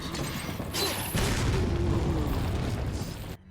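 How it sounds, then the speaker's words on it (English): A grenade detonates in the video game Resident Evil 4, a heavy, close boom that rolls into a sustained rumble and debris noise for a couple of seconds before cutting off abruptly. "Let's throw a grenade here."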